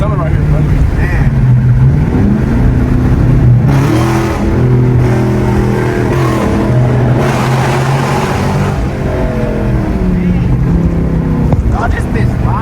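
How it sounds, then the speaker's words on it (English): A Dodge Challenger Scat Pack on a straight-pipe exhaust of 4-inch tubing, with no muffler or resonator, revs hard and loud close by, its deep roar rising and falling continuously while people talk over it. "It's like a straight pipe, but it's like 4-inch tubing all around."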